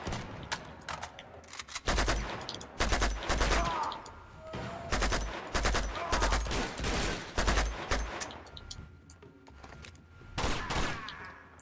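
Gunfire from the video game Uncharted 2 crackles in repeated bursts of rapid shots separated by short pauses, loud and close throughout.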